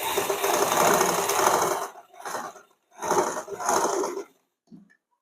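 Sewing machine stitching a lined blouse, running in several fast bursts separated by short pauses, close and fairly loud, with a brief clack at the end and no talking.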